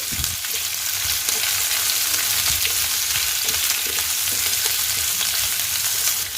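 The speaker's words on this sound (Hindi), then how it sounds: "इसे हम तेल में डाल देंगे। चलाते हुए इसे हम थोड़ा भून लेंगे।" Sliced onion frying in oil while being stirred, a dense continuous sizzle with faint scraping of the spatula, no voices.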